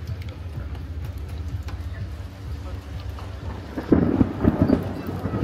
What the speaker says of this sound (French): on entend l'orage qui claque juste à côté